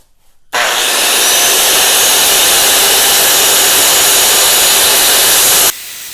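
Angle grinder cutting metal on a Snapper push mower, a loud close continuous high-pitched whine that starts abruptly and holds steady for about five seconds before stopping.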